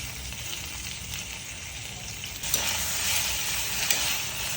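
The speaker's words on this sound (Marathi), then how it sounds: "वांग्याची थोडी तेलात फ्राय करून घ्यायचं." Brinjal (eggplant) pieces with salt frying in oil in a pan, a steady hiss that swells louder about halfway through, with a couple of faint clicks.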